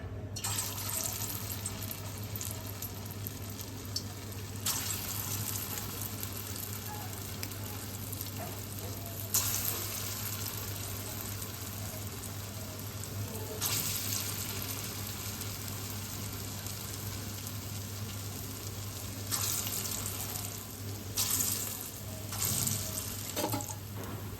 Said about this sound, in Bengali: এবার আমি দই বড়াগুলোকে ভেজে নিচ্ছি।